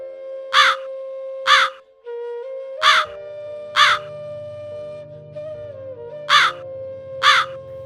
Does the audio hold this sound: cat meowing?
no